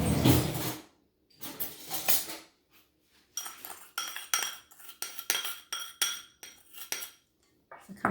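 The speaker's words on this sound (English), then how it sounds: "So kind of just mix it all in there" Chicken adobo ingredients, including garlic, soy sauce, bay leaf, black pepper and sugar, are stirred in a metal pot, with a utensil clinking and scraping against the sides in short, irregular bursts separated by brief silences.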